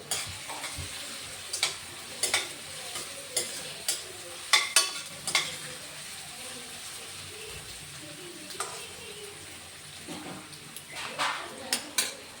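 Crushed garlic fries in a pan for traditional pasta, a soft sizzle running under repeated spoon scrapes and metallic clinks against the pan.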